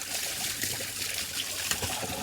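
Water from a garden hose pours steadily into a garden pond as it is refilled for winter, a continuous close hissing trickle with no voices.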